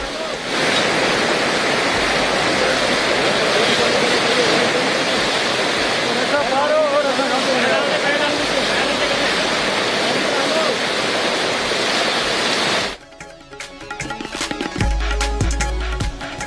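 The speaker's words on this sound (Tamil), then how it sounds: "கர்நாடகாவின் ஜோகர்வியில் வெள்ளப்பெருக்கு. அருவியின் சத்தம்" Jog Falls in Karnataka runs in flood, a loud, dense roar of falling water that holds steady, then drops off abruptly near the end into quieter background sound.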